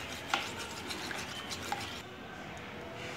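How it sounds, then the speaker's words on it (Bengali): A utensil stirs whisked egg yolks for a sandwich filling in a bowl, giving soft, faint scraping with a few light clicks against the side, close but quiet. "এখন আমরা কুসুমটা একটু মিশিয়ে নিচ্ছি।"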